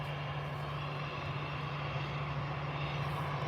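Air Canada aircraft engine droning steadily at Manchester Airport, a continuous broad roar with a low steady hum underneath, holding even loudness throughout with no voices.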